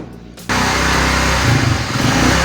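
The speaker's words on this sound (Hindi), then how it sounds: "ये हमने बाइक का स्टार्ट किया" A Honda CD 70 motorcycle engine catches after a brief quiet moment, then settles into a loud, steady, close-up idle.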